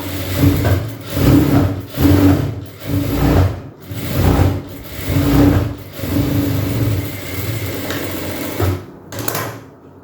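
Sewing machine double-stitching a petticoat in a tailoring class, loud close bursts of rapid needle chatter in short rhythmic runs separated by brief pauses, then a longer steady run near the end.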